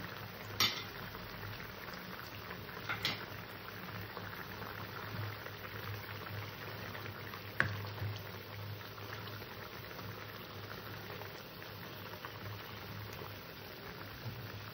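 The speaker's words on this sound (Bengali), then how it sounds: "তরকারিটা ফুটে উঠেছে" A curry of fish heads and kudri simmers in a pot, a quiet continuous bubbling hiss with a few light clinks of a spoon or lid near the start and middle.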